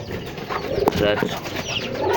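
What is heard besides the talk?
pigeons cooing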